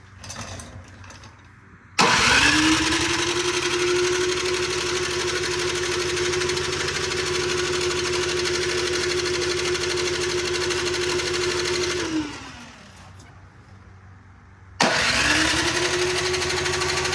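Small engine on an ATV or snow blower, just after carburetor work, cranks and fires up. It runs at a steady buzzing idle for about ten seconds, dies down, then starts again, loud and close.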